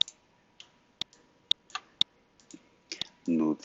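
Computer mouse clicks while working in a drawing program, sharp isolated clicks roughly every half second, close and clear, with a brief spoken word at the end.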